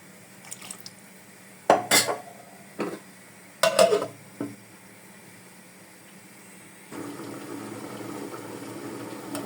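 Chicken and potato curry bubbles in a pot: a few sharp metal clanks of utensils against the pot come first, then a steady, close simmering hiss takes over for the last few seconds.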